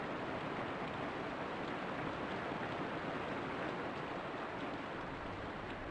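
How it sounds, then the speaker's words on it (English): Heavy rain falls in a dense, steady wash of hiss with no gaps, soft and even throughout, and no voices over it. "The rain came down in heavy drops."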